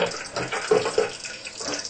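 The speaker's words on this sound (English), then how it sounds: "you have to put the rice paper into the water quickly, but make sure all sides are wet" Rice paper dipped into a bowl of warm water gives soft, close splashes and swishes, a few brief sloshes standing out over a quiet watery background.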